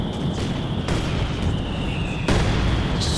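Grenade explosions in a 2v2 Company of Heroes 2 battle, a few heavy booming blasts in quick succession over continuous battle noise, loud and close.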